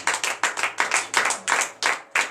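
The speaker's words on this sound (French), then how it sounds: "Chers frères et sœurs, donnez la acclamation à notre Seigneur" A congregation at a morning prayer service in Comè, Benin claps in rhythmic bursts, about eight loud, sharp volleys in steady succession with no voices over them.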